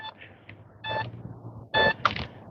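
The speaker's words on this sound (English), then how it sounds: "It's a steady beep beeping." A metal detector sounds short tonal beeps in bursts at night while hunting for coins near a small brick wall, with faint rustling and handling noise between the beeps.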